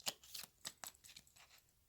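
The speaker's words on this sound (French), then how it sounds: "Je coupe, donc j'utilise ce tarot." Tarot cards being cut and shuffled, quiet soft riffling and slapping in several short bursts spread across a brief moment, with no talking.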